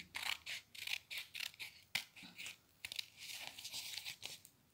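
Scissors cutting paper during a children's craft lesson, quick close snips and rustling in short, rhythmic bursts.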